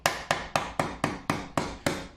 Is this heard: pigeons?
no